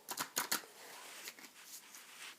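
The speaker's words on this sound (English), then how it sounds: "probably think I suck at shuffling" Altered tarot cards with ink-treated edges being shuffled in quick riffling bursts, quiet and close, then lighter scattered card flicks trailing off.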